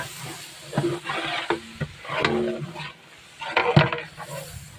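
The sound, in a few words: stirring chicken biryani masala with salt in pan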